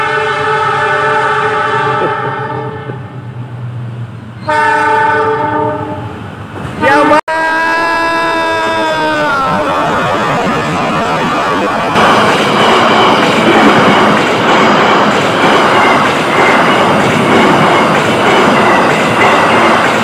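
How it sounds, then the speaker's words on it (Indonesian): A train horn sounds long and loud, then the Lodaya passenger train in Indonesia rumbles past close by with rhythmic clattering wheels that continue to the end. "inilah kereta api Lodaya akan melintas langsung"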